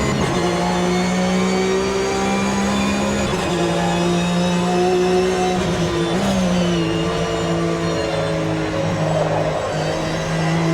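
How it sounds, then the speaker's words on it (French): A loud Porsche Carrera Cup race car engine in a racing video game screams at high revs on the Kyalami circuit, its pitch dropping and jumping with each downshift, continuous throughout with no talking. "Moteur qui hurle à chaque rétrogradage."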